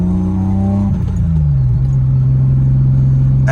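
A BMW E30 cruising at 40 mph in third gear around 2,500 rpm, a loud steady engine drone inside the car with a slight pitch dip and settle partway through.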